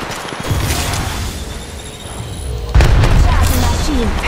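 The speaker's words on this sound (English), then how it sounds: "Throwing thermite grenade." A thermite grenade detonates in Apex Legends Mobile during a team deathmatch, a loud booming burst amid continuous gunfire and mechanical clatter, with a second heavy blast-like surge near the end.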